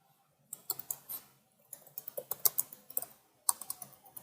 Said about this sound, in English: Let me type from here.